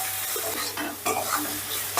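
Spice masala with Kashmiri chili powder sizzles and is stirred steadily in a hot pan for a soybean and chana dal curry, a close, continuous frying hiss with scraping stirs and no talking.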